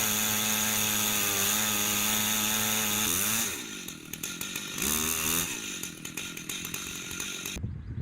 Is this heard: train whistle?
no